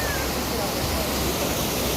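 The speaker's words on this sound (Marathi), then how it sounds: "ह्या पर्वत रांगांमधून हा धबधबा आलेला आहे" A waterfall fed by rain runoff pours down from mountain ranges, a dense, steady roar of rushing water filling the whole stretch without pause.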